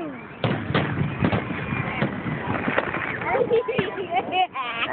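Fireworks set off close by at a house in Williamstown: a run of sharp booms and crackles over a noisy outdoor background, with people talking and exclaiming throughout.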